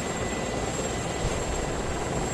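Inside a helicopter in the Arma 3 video game, the engine and rotor produce a steady, dense whooshing drone with a thin high whine, constant and unbroken, with no speech over it.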